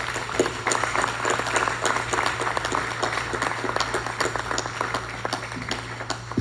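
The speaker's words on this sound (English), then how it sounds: "I think we need to clap it up for them again." A room full of people claps for military members at a boys mentoring camp, with dense, steady applause running the whole time under a faint hum.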